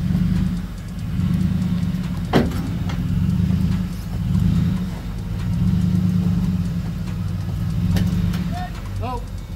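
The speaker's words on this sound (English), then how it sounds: "You can hear my Ferrari in the background" A Ferrari engine idles with a steady low rumble throughout, swelling and easing in slow pulses, with a sharp knock partway through and a few faint chirps near the end.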